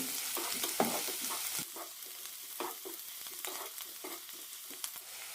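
Ginger and garlic sauté in an oil-slicked pan for a tamarind puli curry, a steady close sizzle broken by the repeated scrape and clatter of a spoon stirring, with no talking.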